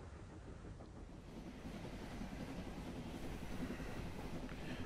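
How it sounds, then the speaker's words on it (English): Steady low rumble of a train rolling along rails toward London in a video game adaptation of The 39 Steps, a continuous even drone with no talking. "Back on the train, gang."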